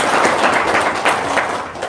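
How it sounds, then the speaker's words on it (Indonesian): Applause from an audience at an Indonesian religious talk, a dense, continuous patter of many hands clapping at a fairly loud level throughout. "Tepuk tangan dulu dong."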